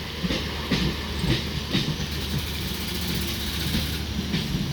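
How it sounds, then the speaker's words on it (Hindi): A Down Bandel–Howrah local train on Indian Railways rolls toward Hooghly railway station, with steady close rumble, hiss and a repeating clickety-clack of wheels over rail joints throughout, no voices. "Down Bandel Howrah local train Hooghly railway station की तरफ जा रहा है।"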